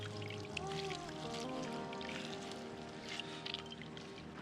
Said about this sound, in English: pour the water into there, not all at once, and then squeeze